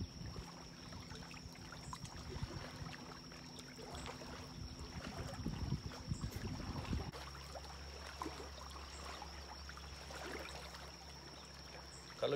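Wake waves from a passing boat lapping against the rocky shore of Jenny Wiley lake, a faint steady wash and trickle heard from the bank with low motor rumble and no talk.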